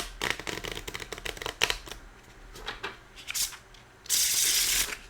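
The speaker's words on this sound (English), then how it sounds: "listen how they shuffle" A plastic deck of playing cards is shuffled close up, with rapid riffling bursts and brisk flicks repeating, ending in a longer continuous riffle.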